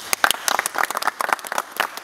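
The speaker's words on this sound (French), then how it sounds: "C'est émouvant, on peut applaudir." A small audience claps at an event in Massy, a brief burst of scattered, uneven hand claps, fairly close and lively, lasting about two seconds.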